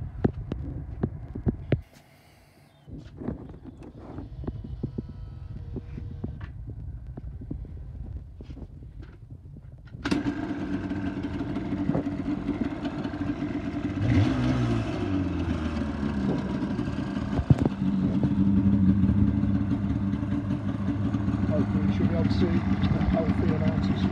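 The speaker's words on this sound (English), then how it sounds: "I'll get it fired up in a second just to show you that the bike's cold" A cold Yamaha TDR250 two-stroke motorcycle is started, and its engine settles into a steady, loud idle that roughly doubles in level partway through. Someone talks over the quieter handling noises before it fires.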